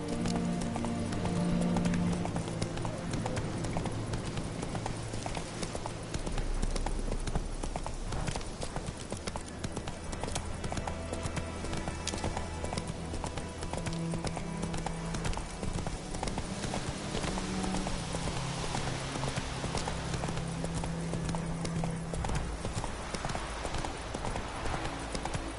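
Roach the horse galloping in The Witcher 3: Wild Hunt, a fast continuous clip-clop of hooves under game music, with a brief whinny and a short spoken line early on.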